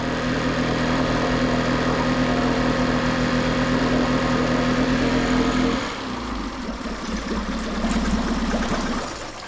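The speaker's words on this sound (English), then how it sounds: "the sound of the engine isn't changing" A Tohatsu/Mercury outboard engine with a freshly cleaned carburetor runs at a steady idle, close and continuous, its tone shifting and settling lower partway through.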